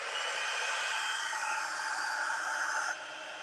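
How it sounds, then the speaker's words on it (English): A heat tool blows steadily to heat-set embossing powder, giving a continuous loud fan-like hiss close by that drops slightly in level near the end. "you need your heat tool. So we're just gonna heat set that powder"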